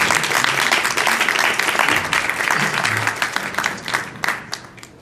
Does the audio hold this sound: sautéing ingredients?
no